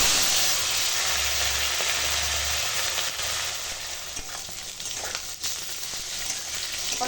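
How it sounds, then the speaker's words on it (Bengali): Eggplant fries in a pan over a tempering of nigella seeds and green chilies, producing a loud, unbroken sizzle up close with occasional faint stirring scrapes and a low background hum. "বেগুনটা হালকা ভেজে নিচ্ছি"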